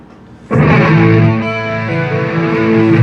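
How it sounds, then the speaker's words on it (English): Electric guitar played through the chorus effect of a BOSS GT-8 multi-effects unit, with reverb always on; a single strummed chord starts after a half-second pause and rings out loud and shimmering for several seconds, with no talk. "Number 4 is a chorus."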